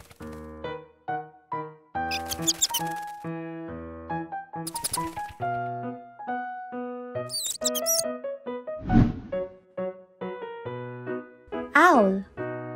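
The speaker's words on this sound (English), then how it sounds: "Bat." Bat squeaking as short high chirps set against cheerful children's-program music, the squeaks brief and scattered through the tune.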